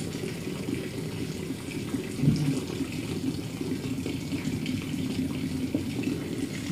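Running water pours steadily into a container, a continuous close splashing rush with one brief louder splash partway through.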